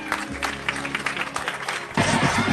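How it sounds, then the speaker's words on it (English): Wedding guests at an outdoor catered party clap in a broad, sustained burst of applause, with mixed crowd noise and some voices throughout, swelling louder and denser near the end. "Big round of applause for Madison, ladies and gentlemen."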